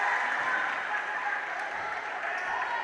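Spectators at a Northern Phoenix FC versus Evolution FC football match applaud and cheer for Phoenix, a dense, sustained wash of clapping and crowd noise at steady loudness across the whole stretch.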